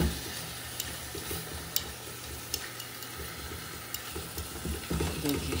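Masala-coated chicken wings stirred in a pan over a low flame, a quiet steady sizzle with occasional light clicks of the utensil and a slightly busier stirring burst near the end.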